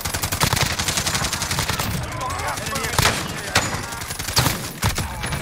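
Rapid bursts of automatic gunfire rattle through a Call of Duty: Black Ops Cold War match, dense volleys of close shots with sharper single cracks breaking through, with voices faintly underneath.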